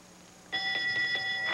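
A small bell rings to mark a correct answer on an animal quiz show, giving a quick series of bright, clear chimes after a quiet start.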